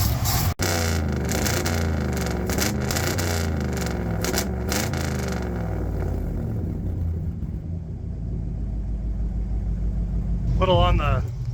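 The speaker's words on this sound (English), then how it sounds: "It revs out pretty clean at this point." A 1972 Ford F750 "Super Pickup" truck engine free-revs, rising and falling in a few loud, steady surges close by, with someone talking over much of it.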